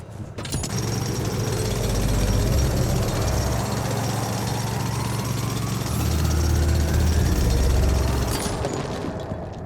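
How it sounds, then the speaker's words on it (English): Drill boring through loose rocks in The Alters, a loud continuous rattling, grinding mechanical roar that holds for several seconds with rising whine and low rumble. "If only I had a tool to drill through them."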